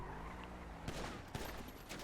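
Bursts of gunfire from GTA 5 roleplay on a server, with sharp shots cracking around one and one-third seconds over a steady game background, loud and close.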